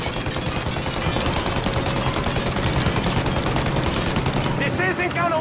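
Sustained automatic gunfire rattles loudly and continuously at a plane's engines in the crime game Mafia Definitive Edition. Shouting voices are heard over the shooting.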